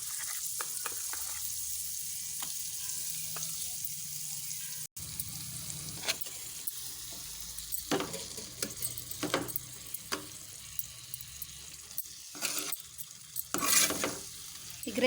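Chicken pieces frying in a pan with freshly ground spice paste for gravy, giving a soft sizzle broken by intermittent scraping stirs of a spoon, fairly quiet and close, with no talk.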